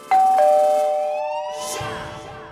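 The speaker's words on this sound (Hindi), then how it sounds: "घंटी बजी" A two-tone doorbell chime rings clearly, with a ding followed by a longer dong that fades slowly, and no talking over it.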